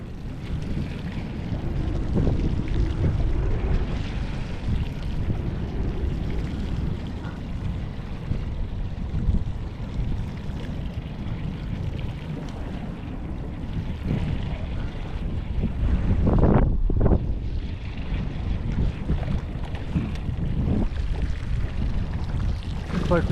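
Strong wind buffets the microphone at Antero Reservoir while fishing, a steady loud rumble with gusts swelling and easing throughout and no talk.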